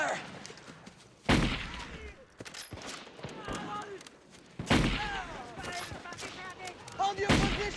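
Rifle gunfire in an action movie, with several sharp, loud shots spaced a few seconds apart amid battle noise, over background talk.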